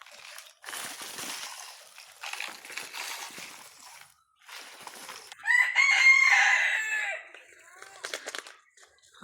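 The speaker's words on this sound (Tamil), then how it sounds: "வந்துடுச்சு சேவல்." Rooster crowing loudly nearby in a rural outdoor kitchen, a single long crow rising out of soft background clatter and water sloshing from cooking.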